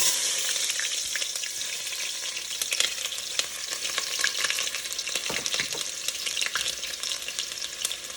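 Steady, crackling sizzle of onion frying in hot oil, loud and close, with continuous popping and spitting throughout and no voices.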